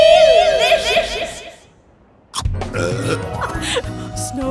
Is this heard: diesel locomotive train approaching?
no